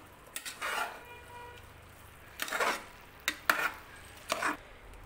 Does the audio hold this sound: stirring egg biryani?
yes